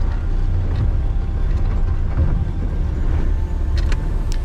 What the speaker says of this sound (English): even though you're in first gear low range and just running on the engine compression, the vehicle kept on going a little bit faster